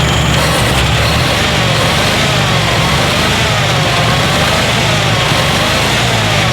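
A 1915 Locomobile engine runs loudly and steadily close by, a dense mechanical clatter with a throbbing low rumble and no voices.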